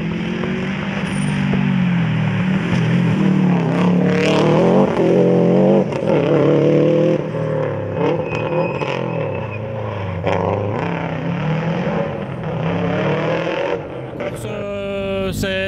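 A rally car's engine revs and surges on a very muddy stage, loud and close, with repeated rising pitch sweeps as it accelerates and changes gear, and a brief voice near the end.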